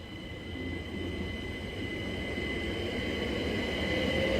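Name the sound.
Great Northern Class 387 electric train at Hitchin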